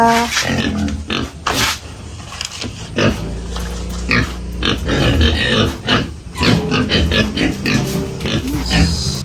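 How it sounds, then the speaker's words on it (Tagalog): Pet pigs grunt and oink close by during bathing, with splashing and handling noises mixed in and a person talking at moments. "Magpapaligo naman tayo guys ng alagang baboy."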